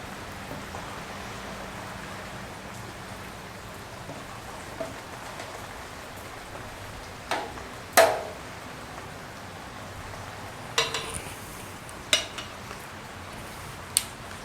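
Wort being stirred in a brew kettle during a Double IPA brew day, a soft continuous hiss of liquid with a few sharp metallic clinks and knocks from the paddle against the pot.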